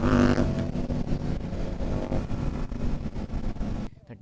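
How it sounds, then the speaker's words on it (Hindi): Kawasaki Z900 motorcycle engine rumbling and revving during a group superbike ride, loud and near, with people talking over it before it drops away at the end. "जी 900 का आवाज़ सुनो भाई"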